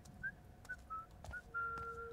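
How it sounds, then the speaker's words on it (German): Someone in the stealth video game Thief 4 whistles a few short, clear notes in separate bursts, rising to a longer held tone near the end, over a faint low background hum. "Der pfeift mir."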